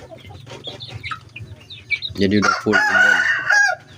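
Month-old Jimmy White bloodline crossed with Hongdam bloodline chicks cluck and peep close by during feeding, with a loud burst of calls toward the end, while someone talks over them.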